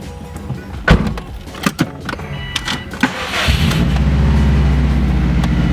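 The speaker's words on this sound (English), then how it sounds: "That beautiful Subaru Rumble." A Subaru WRX engine gives a deep, steady rumble that builds and then holds loud near the end, following several sharp knocks and clunks from the car.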